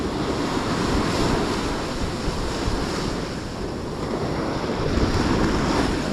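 Ocean surf breaking steadily along a beach while surf fishing, a continuous loud wash of waves with gusty wind noise buffeting the microphone, no talk.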